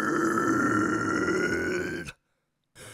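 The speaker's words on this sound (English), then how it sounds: "sound like your general false chord low" A low false-cord scream vocal technique, a sustained gritty, growling roar held for about two seconds before cutting off abruptly, followed by silence and a brief restart.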